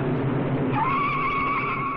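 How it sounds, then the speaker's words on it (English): Race cars at the 1957 Indianapolis 500 spin out, a broad roar of engines and tire noise giving way to a sustained high squealing skid that holds steady for over a second, loud and close. "Two cars spin."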